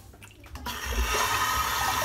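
Water splashes onto a freshly shaved head after a few faint knocks, then becomes a loud, steady rushing gush that carries on to the end without any speech.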